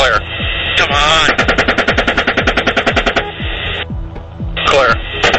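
Rapid bursts of automatic gunfire from an attack helicopter's machine gun, a fast evenly spaced string of loud shots, with crackly radio chatter and voices heard around and between the bursts.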